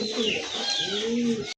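Short-beaked domestic pigeons coo in a steady, close run of low throaty calls, lasting about a second and a half before cutting off abruptly.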